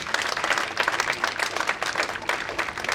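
A church congregation claps hands together in a dense, continuous wash of applause, loud and sustained throughout with a faint murmur of voices underneath.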